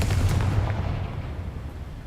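A Confringo fire spell blasts in Hogwarts Legacy with a heavy, booming explosion that rumbles and fades over about two seconds.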